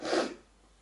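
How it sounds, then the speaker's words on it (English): One short, forceful sneeze burst, close and loud, trailing off into quiet. "Excuse me, I'm gonna sneeze."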